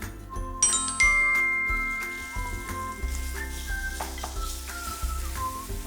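Salt is stir-fried into dark caramel in a pan for Coke-braised pork leg. A spatula clinks and scrapes against the metal in irregular strokes under a soft sizzle, with sustained tonal sounds in the background.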